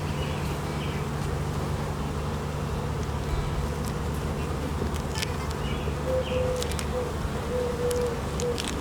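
Honey bees buzz in a steady, close drone during a hive inspection, a continuous hum with occasional louder passes of individual bees near the listener.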